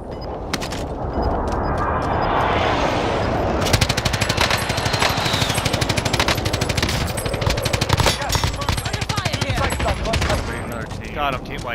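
Rapid automatic gunfire in a video game shooter, a dense, loud rattle of shots running almost continuously after an opening stretch of rushing noise.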